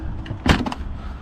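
A fridge door in a VW Crafter campervan is opened, giving one short clunk and rattle of the latch and panel. The sound is close and fairly loud over a low background hum.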